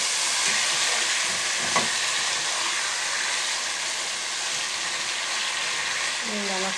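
Rohu fish curry sizzles and fries in a pan while being stirred, a steady hiss with a brief scrape of a spoon, and someone talking over it.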